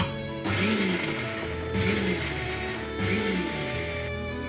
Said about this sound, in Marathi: आता मी ते मिक्सरमध्ये काढून घेते